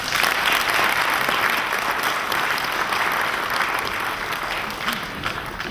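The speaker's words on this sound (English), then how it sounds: "Now, round of applause, please" A banking and finance conference audience breaks into steady, full applause after a speech, many hands clapping evenly and loudly throughout with little change in intensity.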